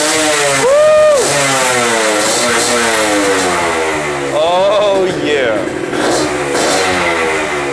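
A custom scrambler motorcycle built by Woods Customs idles close and loud, its engine revved up and down several times in swelling, falling pitch sweeps over a steady running drone.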